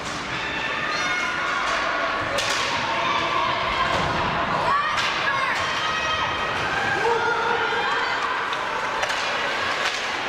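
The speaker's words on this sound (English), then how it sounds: "Just listening to Adriana cheering on the physical play" A spectator cheering at an ice hockey game, voices shouting over crowd noise, with thuds and board impacts from play on the rink.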